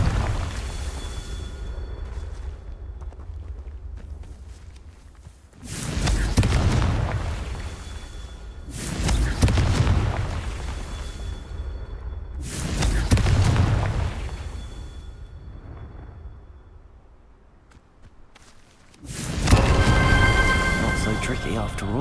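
Spell explosions from Confringo casting in Hogwarts Legacy, four heavy booming bursts spaced a few seconds apart, loud and close, with a quieter rumbling game backdrop and a voice speaking between them.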